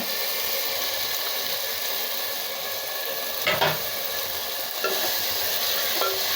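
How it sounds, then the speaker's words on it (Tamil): Tomatoes added to softened onions sizzle steadily in a pan for mushroom biryani, a constant loud frying hiss with a couple of brief spatula scrapes partway through, close up and with no voices. "தக்காளி போட்டு நல்லா வதக்கலாங்க"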